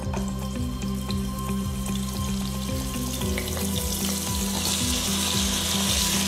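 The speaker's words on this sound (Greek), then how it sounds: "θα ρίξουμε μέσα τις γαρίδες μας για να τις σοτάρουμε" Cleaned, flash-frozen Kalymnos shrimp sauté in a pot, sending up a loud, steady sizzle and frying crackle throughout, with stirring and a watery hiss building toward the end; no one talks.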